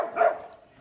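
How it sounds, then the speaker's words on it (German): A single short bark from a Bodeguero dog, close and moderately loud, fading quickly into quiet. "Oh, was für ein toller Hund. Ein Bodeguero, immer so freundlich, ne?"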